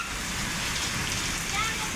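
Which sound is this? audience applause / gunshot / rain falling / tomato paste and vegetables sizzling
rain falling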